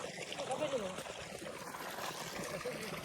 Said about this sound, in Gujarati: કિશન પેલી સાઈડે પાણી કોનું ચાલુ?